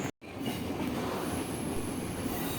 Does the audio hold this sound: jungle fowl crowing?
no